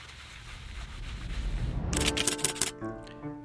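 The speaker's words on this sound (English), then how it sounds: "could start sanding these stairs" Faint scraping and rubbing strokes of sanding on wooden stairs build up, then a brief clatter of tapping and rattling as the motion changes, fairly quiet and close.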